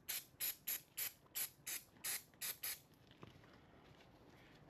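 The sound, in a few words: brake fluid sprayed onto motorcycle brake caliper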